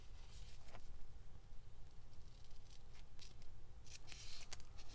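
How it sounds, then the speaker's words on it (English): Scissors snip paper in a junk journal fussy-cutting session, faint, uneven clips and rustles spread over steady low background hiss, with no talking. "So I'm kind of semi-fussy cutting right now."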